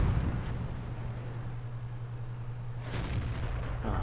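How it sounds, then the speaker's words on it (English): Artillery shells bursting around an open-top tank destroyer in the video game World of Tanks, with a steady low rumble and a sharper impact near the three-second mark. "This artillery's still going for me. It's dropping shells all around me."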